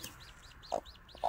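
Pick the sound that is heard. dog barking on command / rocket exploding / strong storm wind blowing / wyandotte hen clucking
wyandotte hen clucking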